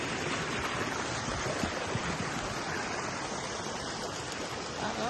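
Steady, dense rush of falling and flowing water at Cambanog Waterfall, a continuous broadband roar filling the whole stretch with no pauses.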